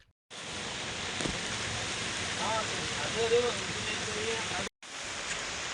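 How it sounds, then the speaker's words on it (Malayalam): Rain falls over a hilly area where floodwater is rising, a steady even hiss that cuts out briefly near the end, with faint talk beneath. "മഴ കുറച്ച് കുറവുണ്ട് ഇപ്പോൾ."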